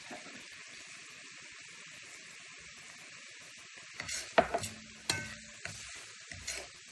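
Green beans and bacon cook quietly in a pan, a faint steady sizzle that turns into a burst of stirring clatter and scraping near the end.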